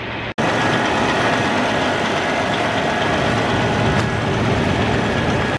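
A new 610-horsepower tractor pulling a nine-shank ripper runs with a loud, steady, close engine rumble that carries on without a break.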